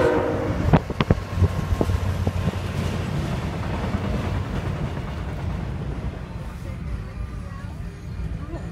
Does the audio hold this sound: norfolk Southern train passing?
yes